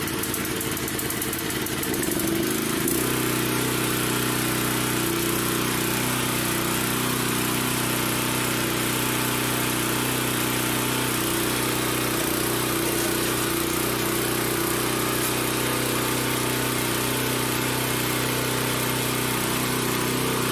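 A Briggs & Stratton XR550 engine on a Brute garden tiller idles steadily and loudly up close, a continuous low, even rumble after a brief rougher start.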